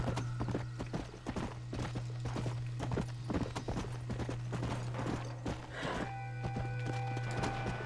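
Steady horse hoofbeats in Red Dead Redemption clip-clop in a quick rhythm throughout, close and clear over a constant low hum, with a brief tonal chime near the end.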